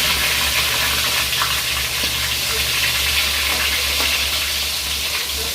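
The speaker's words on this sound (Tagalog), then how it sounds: "Prito na natin ang ating tilapia." Tilapia fish sizzles and crackles steadily in hot cooking oil, a close, continuous frying hiss with occasional small pops, no talking.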